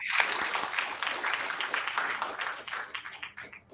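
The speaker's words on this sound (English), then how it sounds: "Can we give a round of applause, please?" A round of applause from a conference audience, a steady burst of clapping that fades toward the end, heard alone without talk.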